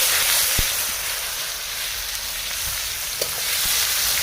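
Cumin, dried red chillies, bay leaves, garam masala and onion fry in hot oil for a village-style country chicken curry, giving a loud, steady, close sizzle that runs unbroken throughout with no talking.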